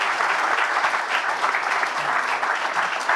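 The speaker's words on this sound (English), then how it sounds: "I think a round of applause for our young people" A conference audience at Focus North Conference 2025 gives loud, dense applause for young people, a continuous roar of clapping from many hands that fills the room without letup.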